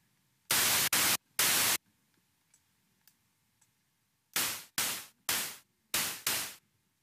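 Bursts of bright static noise from the Kepler plug-in in FL Studio: a few sustained blocks early on, then five short decaying hisses in a rough rhythm, loud against near silence.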